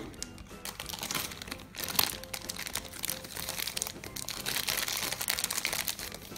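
Packaging of an L.O.L. Surprise glitter doll crinkles and crumples steadily as it is unwrapped up close, a continuous rustling with a few sharper crackles and no talking.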